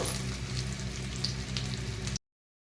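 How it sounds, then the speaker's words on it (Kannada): Mustard seeds and cumin frying in hot oil, a steady close crackling sizzle with faint pops throughout, cutting off abruptly. "ಜೀರಿಗೆ ಒಂದು ಅರ್ಧ ಟೇಬಲ್ ಸ್ಪೂನ್ ಅಷ್ಟು ಹಾಕಿದ್ದೀನಿ. ನೋಡಿ, ಅದನ್ನು ಕೂಡ ಫ್ರೈ ಮಾಡ್ಕೋಬೇಕು"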